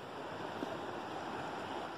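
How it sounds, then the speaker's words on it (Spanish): A river in the Azul area flows steadily, a broadband rush of water that stays even and close throughout with no voices over it. "Acá tenemos el río."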